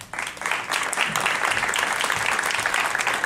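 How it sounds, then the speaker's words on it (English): An audience gives a round of applause for people standing up after phone interviews, a dense steady wash of many hands clapping that stays loud and even throughout. "would you please stand up so we can give you a round of applause?"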